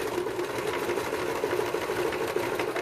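A domestic sewing machine stitches synthetic vintage fabric at full speed, a close, steady rapid whir with fast rhythmic needle clatter running without pause and no talking.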